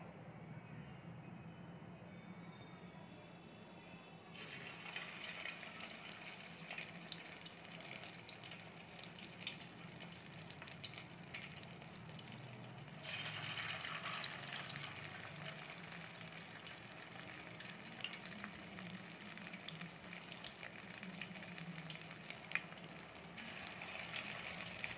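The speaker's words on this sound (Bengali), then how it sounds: "এখন এগুলোকে আমরা একটু ব্রাউন কালার করে ভেজে নেব।" Soybean pakora mixture drops into hot oil, and a broad sizzling hiss swells louder as more pieces go in, then bubbles steadily and fairly quietly without speech.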